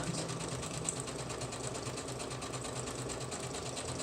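A sewing machine zigzag-stitches around the edge of paper scraps for a junk journal, running in a fast, steady mechanical chatter of repeated needle strokes, close and continuous.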